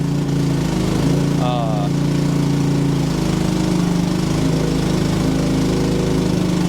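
AGT H15 mini excavator grading dirt for a concrete pad, its steady engine drone loud and continuous throughout, with a brief hydraulic whine rising early on as the bucket scrapes lightly.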